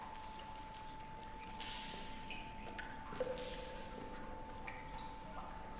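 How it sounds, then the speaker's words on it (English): Water drips echo in a haunted hotel level of the DreadOut horror video game, scattered faint plinks and ticks over a steady eerie tone and low ambient hum. "The drips got noisy all of a sudden, that's weird."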